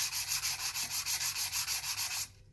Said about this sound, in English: Now we're going to hit that edge with the sandpaper just until we see the metal